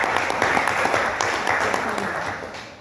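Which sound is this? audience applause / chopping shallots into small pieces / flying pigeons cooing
audience applause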